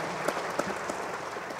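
Delegates at an agricultural forum clapping for themselves in a conference room, a quiet scattering of claps with a few sharper slaps standing out over a soft, even patter.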